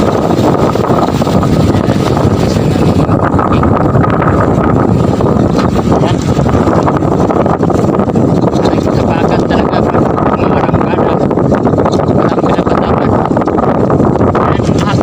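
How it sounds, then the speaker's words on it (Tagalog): Strong monsoon wind roars and buffets the microphone as rough waves slap against tilted boats, with a voice speaking now and then over the din. "Tagilid yung mga bangka ngayon mga kaking. Ayan, binabayo ng alon."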